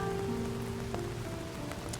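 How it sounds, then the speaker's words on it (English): Rain pours steadily in the DDLC Downpour video game as an even, constant hiss beneath faint sustained tones, with no voices. "I watch the rainwater flow as I make my way downhill on the rain-soaked sidewalks"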